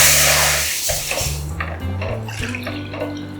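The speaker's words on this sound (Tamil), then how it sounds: "இப்போ அதே பாத்திரத்தில் நம்ம இதுக்கு தேவையான அளவு தண்ணி ஊற்றி சூடு பண்ணிக்கலாங்க." Water pours into a cooking pot in a home kitchen, splashing at first and then ringing with a rising hollow tone as the pot fills, close and clear with no talking.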